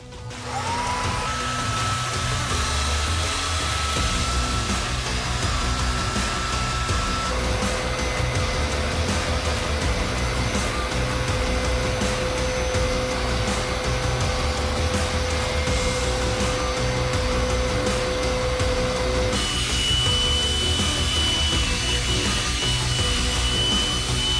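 A Hoover Power Scrub Deluxe carpet shampooer runs continuously, a steady loud motor whine and brushing hum with slight pitch changes as it is pushed across carpet.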